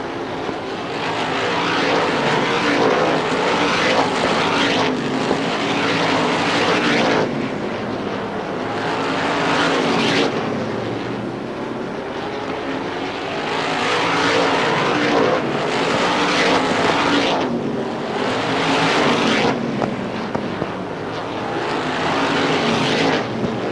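Stock race cars lap Star Speedway in 1997, engines swelling and fading as cars pass close by in repeated waves, loud and continuous with no talk over them.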